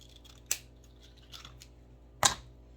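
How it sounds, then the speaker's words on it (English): Scissors snip through burlap ribbon in two sharp, close cuts about two seconds apart, with a softer rustle of fabric between them in a quiet room. "I'm going to do that with the burlap ribbon here. So I'm going to cut a piece off."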